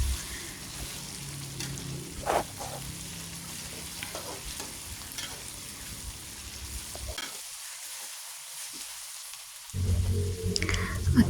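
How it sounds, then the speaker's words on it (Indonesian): A spice paste with leaves, for ayam koto gadang, sautés in a pan under constant stirring. It makes a close, continuous sizzle with scraping strokes, a brief lull, then a louder burst of frying at the end. "Dan ini kita tumis sampai wangi, sampai matang, tapi jangan sampai gosong. Jadi harus diaduk-aduk terus begini ya."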